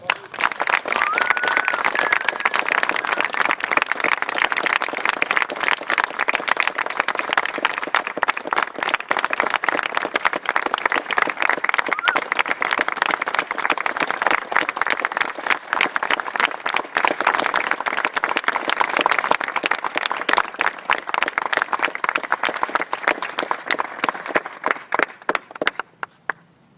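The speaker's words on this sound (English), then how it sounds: "Ladies and gentlemen, please join me in a round of applause." A long, steady round of audience applause at a Davidson College Marine officer commissioning ceremony, with many hands clapping evenly for over twenty seconds before tapering off at the end.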